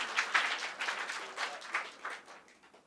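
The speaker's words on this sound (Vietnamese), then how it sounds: "Và chúng ta vỗ tay cảm ơn Chúa" A church congregation claps in thanks during a worship service, a moderate round of applause that swells in uneven bursts and gradually fades out.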